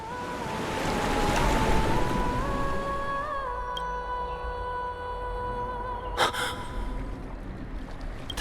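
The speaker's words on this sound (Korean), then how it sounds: "물소리만 따라가면 돼." Steady rushing water in the Honkai: Star Rail game world, a continuous broad wash heard alone, with a soft sustained tonal hum fading in and out and a brief brighter swell near the end.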